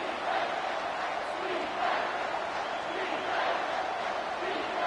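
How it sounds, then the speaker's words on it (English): Broad, steady roar of a stadium crowd in a college football video game, Virginia Tech against Ohio State, swelling slightly as a defense lines up on third down, continuous and fairly loud throughout. "Decibels rising as the crowd gets behind this defense on 3rd down"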